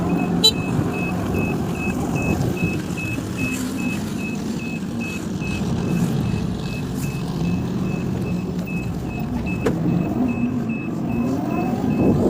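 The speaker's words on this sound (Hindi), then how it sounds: "फिलहाल अभी हम लोग ऑटो में हैं" Steady engine drone and road rumble from inside an auto rickshaw riding through Nepal, continuous for the whole stretch, with a faint high electronic tone running throughout and no talk.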